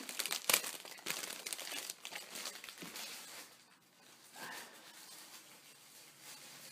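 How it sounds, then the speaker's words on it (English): Close crinkling and crumpling of packaging material, with sharp rustles early on that settle into quieter, intermittent handling sounds. "Sorry about the rustling."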